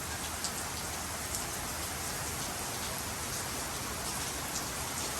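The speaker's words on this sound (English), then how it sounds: "It's kind of raining at an angle." Steady, dense rain falls at an angle in wet weekend weather, a continuous close hiss of drops striking surfaces with no voices.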